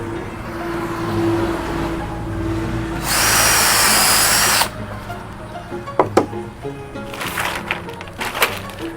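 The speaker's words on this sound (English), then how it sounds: "Drill." Cordless power drill whirring steadily for over a second while fastening cumaru hardwood decking, followed by sharp knocks and clatter of boards and hardware, with low road traffic humming behind.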